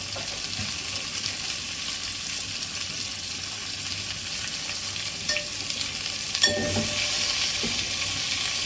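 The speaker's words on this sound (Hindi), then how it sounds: "I am going to start भूनोइंग the onion अब।" Three thinly sliced onions fry in a pan for biryani, giving off a steady, close sizzle with occasional stirring scrapes and a brief clatter midway. No talking is heard.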